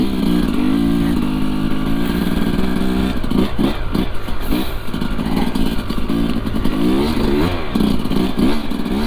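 Sherco SE 300 dirt bike ridden along a trail in deep snow, its engine droning loud and close throughout with repeated revs and throttle blips, plus clatter from the machine.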